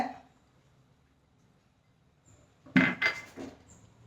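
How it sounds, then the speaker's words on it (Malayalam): Grated coconut and cumin drop into a mixer-grinder jar while preparing a Karkidakam herbal rice porridge, giving a few short clinks and knocks in a quick cluster after a quiet stretch. "ഞാനത് മിക്സിയുടെ ചാറിലേക്ക് ഇട്ട് കൊടുക്കുകയാണ്"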